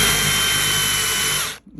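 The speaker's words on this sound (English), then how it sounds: "And then you just get a drill and come up at an angle." A power drill carving into a wooden sign at an angle, a loud steady high whine of the bit cutting wood that holds for about a second and a half, then stops abruptly.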